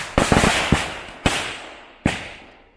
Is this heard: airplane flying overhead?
no